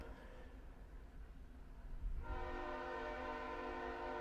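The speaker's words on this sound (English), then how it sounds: "it's laying on the horn right now" A train at a railroad crossing right beside a house lays on a loud, sustained multi-tone horn over a low rumble, rising sharply partway through and holding steady.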